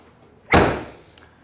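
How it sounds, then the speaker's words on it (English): A 2000 Pontiac Trans Am car door shuts once with a single solid, close slam that decays quickly into quiet. "Door shut real nice."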